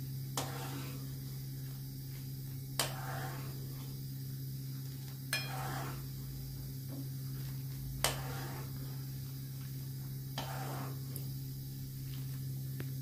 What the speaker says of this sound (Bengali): অনবরত এটা নাড়তে হবে।